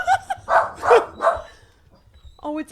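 Several loud dog barks burst out in quick succession near the start, a few faint yips trailing off, followed by a brief voice at the end.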